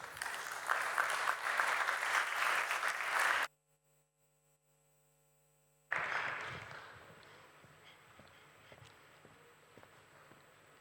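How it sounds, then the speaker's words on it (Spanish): Audience applause at a conference session on industrial safety in the energy sector: loud dense clapping, a sudden gap of near silence, then a second burst that tapers off into scattered claps. "Pido, por favor, un aplauso muy fuerte para todos ellos."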